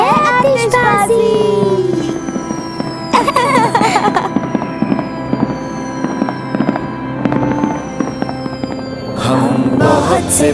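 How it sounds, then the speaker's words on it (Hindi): Repeated fireworks explosions in an animated cartoon crackle and boom over a steady hum, with whistling rising streaks and bursts clustering near the start and end. "तो ये है आतिशबाजी।"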